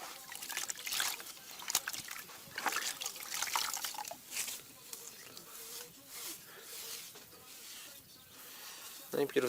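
A wet sponge and water wash fresh grout off a mosaic of granite tile offcuts, giving close, soft wiping, trickling and dripping sounds that keep up in an uneven rhythm for several seconds.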